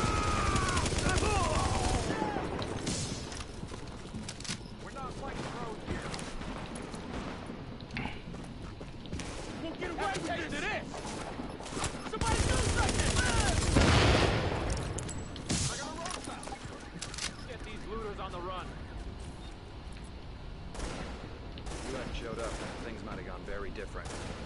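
Gunfire in The Division's urban firefights, repeated rattling bursts and single shots near and far that keep going throughout, with a louder swell midway and voices talking over the shooting.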